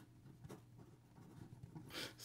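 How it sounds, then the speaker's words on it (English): An OMAS Vintage 360 fountain pen with a fine 18k gold nib writing on paper, a soft continuous scratch with brief stroke accents, faint and close in a quiet room. "Here we go with the writing sample for the OMAS, and this is the Vintage"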